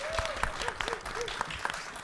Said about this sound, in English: give all of yourselves a round of applause